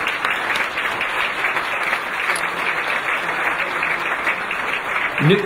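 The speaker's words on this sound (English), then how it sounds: "Please give them a round of applause." A banquet audience at a city's State of the City address breaks into sustained, even applause, a broad wash of clapping heard from within the room with no one speaking over it.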